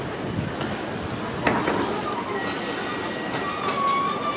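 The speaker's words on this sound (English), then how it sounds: "Now arriving platform 1 is a service to Lincoln Central" Train arriving at platform 1 of Peterborough station, a service to Lincoln Central, with a steady rumbling roll, wheel rub and faint squeals, heard from the platform and fairly close.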